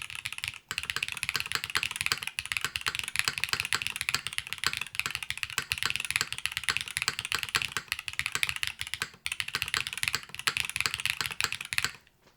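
A Velora TKL mechanical keyboard with a top-mount design and foam inside clatters under fast, continuous typing, close and dense for about twelve seconds.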